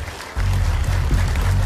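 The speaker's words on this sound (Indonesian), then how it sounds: "boleh berikan juga tepuk tangan yang ada di studio untuk memberikan dukungannya pada Eri." Studio audience applause for a contestant on an Indonesian mentalist talent show begins abruptly after a brief quiet moment, then continues as a steady, full clatter.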